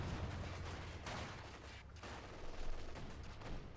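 Distant rattling fire crackles through a Company of Heroes 2 battle as a Panzer IV engages conscripts, a faint, continuous spread of small shots and rumble with no single dominant blast.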